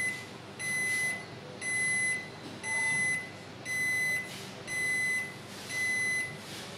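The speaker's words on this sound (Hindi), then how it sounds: "ये देखिए अभी बीपिंग आ रहा है।" A Whirlpool AKPR 6011 built-in oven sounds its alarm in a series of bright electronic beep bursts, about six evenly spaced pulses, each lasting roughly half a second, clear and close over faint room hiss with no talking.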